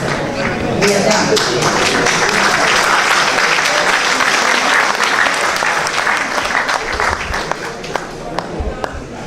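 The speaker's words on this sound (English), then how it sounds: "Let's give them an applause." Audience at a university medical faculty graduates' professional oath ceremony bursts into loud, sustained applause, a thick crowd of clapping with sharp individual claps poking through, tapering slightly toward the end.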